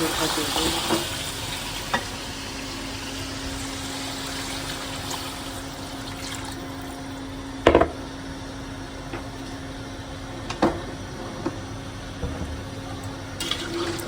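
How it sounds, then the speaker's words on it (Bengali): Meat and potatoes sauté in a pan, giving a steady close sizzle with a low hum underneath and occasional clacks of a stirring spoon, and no talking. "মাংসর সাথে আলুকেও কষাই নিয়ে নিচ্ছি এখন"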